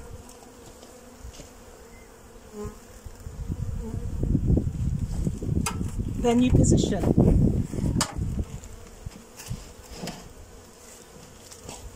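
Many bees buzz close by around a hive, the droning swelling louder toward the middle, with brief clicks and a voice speaking briefly.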